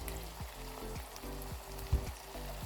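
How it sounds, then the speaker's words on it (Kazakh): A liver filling with black and red pepper, salt, spices and hot peppers fries in a pan, giving a close, steady sizzle broken by faint periodic stirring ticks. "қуырамыз."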